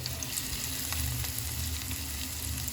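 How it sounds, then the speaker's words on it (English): Prawns fry in about a tablespoon of oil in a skillet while butter garlic prawns are prepared, giving a steady, close, dense sizzle that holds on its own throughout. "Now let's fry these prawns till they are nice and kurkurit."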